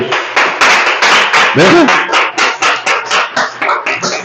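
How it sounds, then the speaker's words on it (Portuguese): A church congregation at a Sunday service gives loud rhythmic clapping in a steady beat, close and strong, with a brief spoken word and voices mixed in. "Vamos a recibirla con un fuerte aplauso"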